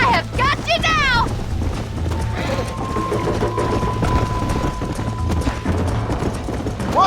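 Hooves of a galloping horse in the Red Dead Redemption video game, a steady rapid clip-clop close by, running under loud shouted voices and a long sustained tone.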